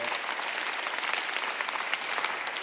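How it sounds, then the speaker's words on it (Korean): A congregation at a Korean Sunday worship service breaks into applause, a dense, lively burst of many hands clapping continuously close by, with no voices. "박수 한번 주세요"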